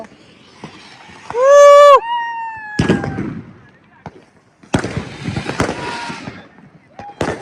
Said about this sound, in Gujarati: ફટાકડા ફોડવાના છે બહુ બધા